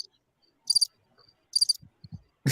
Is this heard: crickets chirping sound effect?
yes